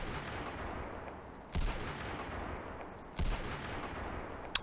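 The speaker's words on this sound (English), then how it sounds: "you get a pause and then the big explosion of the round being fired" Two loud gunshots from a modded double-action gun in the game Fallout 4, each a sharp booming blast spaced about a couple of seconds apart over a steady background, with a small click near the end.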